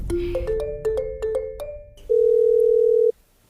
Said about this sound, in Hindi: मेरा फोन बज रहा है किचन में